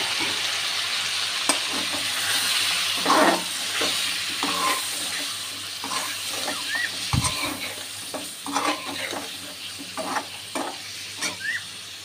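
Sweet pumpkin pieces go into a hot oiled pan and sizzle steadily, with intermittent stirring scrapes and a brief low thump of the pan, near and unbroken, without speech.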